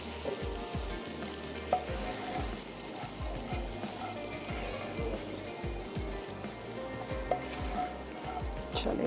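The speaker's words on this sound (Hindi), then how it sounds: "दोनों तरफ में ही थोड़ा थोड़ा सा जो तड़का है वो" Hot spiced tadka is poured onto panj ratni dal, giving a steady, fairly quiet sizzle and crackle with light stirring clinks throughout.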